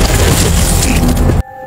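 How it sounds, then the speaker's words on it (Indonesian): A monster exploding in a Korean drama: a loud, sustained roaring boom with crackling debris that cuts off abruptly into a quiet, faintly humming tail. "tubuh monster itu terbakar dan kemudian tiba-tiba meledak dengan sendirinya."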